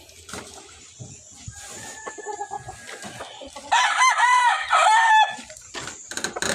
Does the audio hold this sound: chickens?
yes